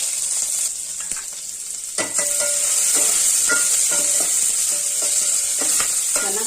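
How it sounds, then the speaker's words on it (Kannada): Curry leaves and chopped onion frying in hot oil, a steady bright sizzle throughout with a spoon scraping and stirring the pan in irregular strokes, close and loud, no voices. "ಚೆನ್ನಾಗಿ ಫ್ರೈ ಮಾಡ್ಕೋಬೇಕು."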